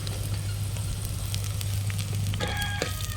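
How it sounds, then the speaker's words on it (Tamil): Small shallots fry in an oiled pan for a garlic kulambu, giving a steady close sizzle with a low hum underneath and a few light scraping clicks near the end, with no one talking. "வீட்டில் ஒரு 4-5 சின்ன வெங்காயம் இருக்குதுங்க, அதையும் சேர்த்துக்கிறேன் நான்."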